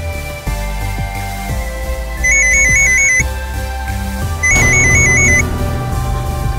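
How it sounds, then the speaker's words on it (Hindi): A mobile phone rings with a loud, close electronic ringtone in two bursts of rapid warbling tones, each about a second long, over a faint background hum with no speech. "पापा उसी का फोन है।"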